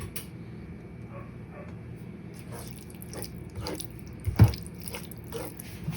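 A hot frying pan used to sauté spinach is set into a tray of cold water, giving soft sloshing and dripping, then one sharp clunk of metal meeting the tray.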